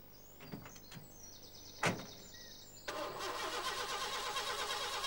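A Royal Mail post bus engine cranks and catches after a couple of clunks and a short whirring starter burst, then settles into a steady mid-pitched idle as it warms up, heard close and alone.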